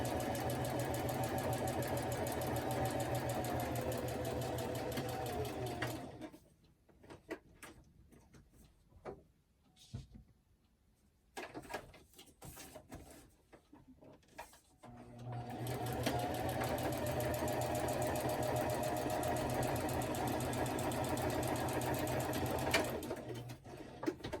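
Sewing machine stitching through a handmade fall foliage writing journal, loud steady running bursts at the start and end with a quieter gap of handling and clicks in the middle.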